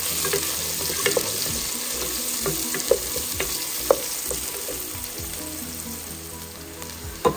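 Garlic and onion fry in a pan with a loud, steady sizzle, broken now and then by sharp clicks of stirring.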